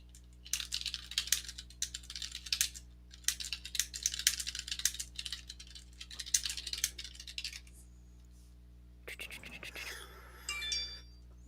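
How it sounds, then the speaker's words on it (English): Quick, light typing on a computer keyboard comes in several bursts of rapid clicking with short pauses, close and fairly quiet, followed by a few rattling sounds near the end. "I'm just typing to someone else quickly."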